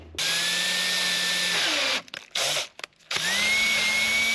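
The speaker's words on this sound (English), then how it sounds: "place this on the inside, kind of like so, and drill one good starter hole" Power drill boring a starter hole in a 94-year-old Ford Model A brake drum: a loud whining motor run, a brief stuttering pause, then the whine resumes close up.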